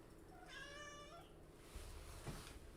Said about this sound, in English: can you hear the cat in the background?